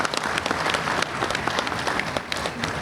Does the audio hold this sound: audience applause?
yes